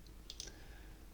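A couple of quick, faint mouse clicks on an on-screen button, close together and very quiet against a low background hiss.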